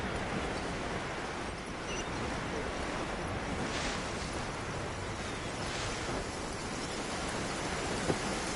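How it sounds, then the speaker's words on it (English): Steady rain falling in the Genshin Impact video game world, a dense, even hiss of downpour that holds without pause, with no voices over it. "I'm used to the rain, but you should probably use an umbrella."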